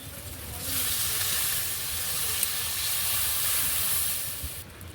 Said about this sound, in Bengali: মশলাটা থেকে তেল ছেড়ে গেছে। এবার আমি জল দিয়ে দেব।